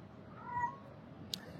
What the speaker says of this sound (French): Ne vous inquiétez pas, c'est un chat qui passe